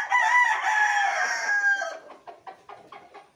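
A fighting rooster lets out one long, loud, close crow lasting about two seconds, followed by a few softer clucks.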